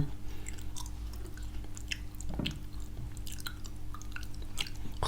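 Close, crisp chewing and biting of crunchy fried chicken, steady mouthy crunches and squishes at ASMR closeness with a brief louder bite midway, no speech.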